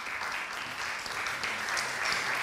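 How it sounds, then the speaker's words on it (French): A seminar audience on teaching learners with special needs claps in a continuous, fairly soft round of applause that holds steady throughout. "Je vous invite à applaudir"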